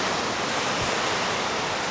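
Steady ocean surf along the Baja California coast, a continuous broad wash of breaking waves and rushing water heard up close with no voices.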